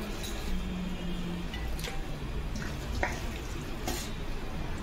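Marinated mutton goes into a hot handi pot with oil, giving a steady low sizzle and frying hiss with a few sharp clinks and scrapes, no voices.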